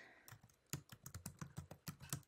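Keys clatter on a computer keyboard in a quick irregular run of crisp taps, quiet and close, with nobody speaking.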